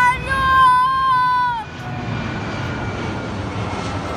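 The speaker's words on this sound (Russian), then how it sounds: "Самолет!" An airplane flies overhead during an outdoor music video shoot, giving a steady, fairly loud broadband roar that holds for several seconds after a brief tonal whine at the start.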